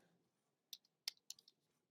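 Typing code on a computer keyboard, heard as a few sparse, crisp key clicks spaced irregularly over quiet room tone, fairly faint and without speech.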